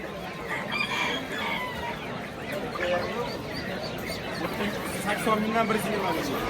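Hens and roosters crowd a busy poultry market, clucking and crowing over steady crowd chatter, with people talking close by throughout.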